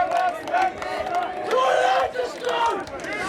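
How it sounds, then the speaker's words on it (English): Imperial supporters roar and chant at a London varsity match against LSE, a loud, surging crowd with rising and falling shouts, close and filling the space. "Imperial crowd really buzzing off that error"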